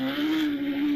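A hillclimb race car at Loton Park fires up with a strong, steady engine hum that holds constant and close throughout the brief moment.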